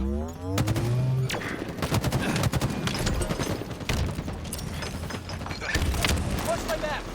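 Gunfire and a grenade blast in the Halo Infinite video game, a dense run of shots and thuds continuing throughout, with players talking over the action.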